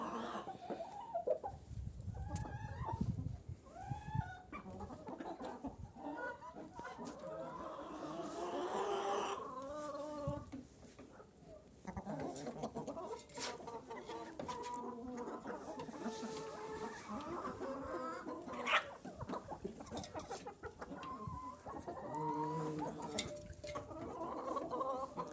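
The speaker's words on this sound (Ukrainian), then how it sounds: "Кури вже понаїдались, декілька зайшли вже бачу." Chickens cluck and chatter continuously nearby, overlapping calls from several birds with an occasional louder squawk.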